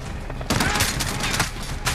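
Machine gun fire in Call of Duty: Modern Warfare, a dense, continuous rattle of rapid bursts with sharper peaks, loud and close throughout amid a chaotic battlefield.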